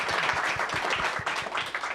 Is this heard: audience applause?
yes